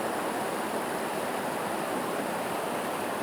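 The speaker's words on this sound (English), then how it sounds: "And this is a feeder creek that feeds into the San Juan Creek" A feeder creek in Long Canyon, flowing down into San Juan Creek, gives a steady, broadband rush of running water, close and even throughout with no voices.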